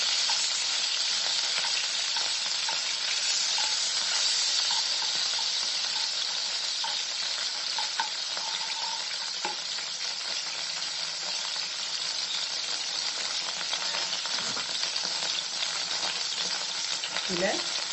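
Butter sizzling and frying in a pan with whole spices such as cumin, cinnamon, cloves and cardamom for paneer butter masala, a loud, steady crackling hiss close by with faint stirring scrapes, no talk.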